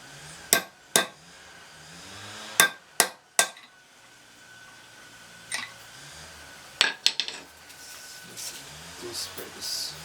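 Sharp metallic taps of a hammer striking a nail used as a punch on a Rover Mulcher Muncher, several spaced blows then a quick cluster, with faint talking and handling noise between.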